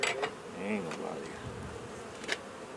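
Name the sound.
aggressive honey bees buzzing in hive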